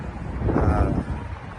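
Wind blows outdoors in open country, a steady, broad rush with a low rumble buffeting the microphone, and no voices.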